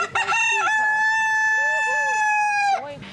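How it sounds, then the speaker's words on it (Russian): A rooster at a village farm exhibit gives one long, loud crow close by, with softer clucking from chickens underneath. "Здесь и живность деревенская, даже можно понаблюдать за тем, как несутся куры."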